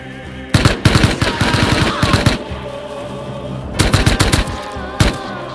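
Rapid automatic gunfire from a Tommy gun in the Rust video game, loud close bursts of rattling shots in two long volleys with a single shot after, over a steady game background.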